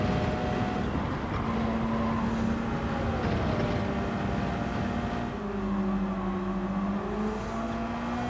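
A Gran Turismo 7 Gr.3 race car engine drones loudly and continuously, its pitch sliding up and down as revs change, with no break in the steady exhaust roar.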